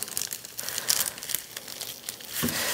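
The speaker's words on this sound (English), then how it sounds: "I can see the plastic's kind of wrinkling up" A plastic sheet crinkles and crackles in irregular bursts as it is peeled off a painted surface, close and fairly quiet with no talking.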